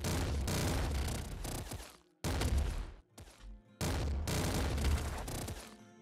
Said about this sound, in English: Auto hand cannon.